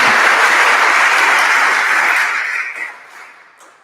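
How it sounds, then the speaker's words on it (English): Dense, loud audience applause welcoming a speaker, a sustained wash of clapping that tapers off and dies away over the last second. "So please welcome, give her applause."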